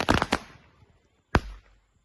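Firecrackers burst during Diwali celebrations outdoors, a quick cluster of sharp bangs at the start, then a single loud crack about a second later, each fading quickly into quiet.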